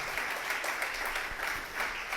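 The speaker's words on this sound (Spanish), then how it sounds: "Si va a aplaudir al Señor, apláudele con ganas," Church congregation clapping for the Lord during a sermon, a rhythmic, fairly quiet burst of hand claps pulsing evenly throughout.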